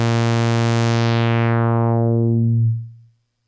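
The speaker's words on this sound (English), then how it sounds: "it has a ladder filter, it has a Moog filter" A single sustained Moog-style synthesizer note run through a transistor ladder filter, loud and steady. Its bright upper harmonics slowly close down to a darker tone before it fades out after about three seconds.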